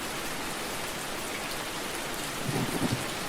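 A thunderstorm with steady rain at night, a continuous wash of rainfall with a low rumble of thunder swelling near the end.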